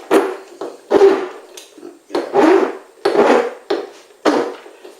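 Hand file rasping back and forth on a tool point, worked left-handed, in a run of six loud strokes with short pauses between them, close up and without any talk.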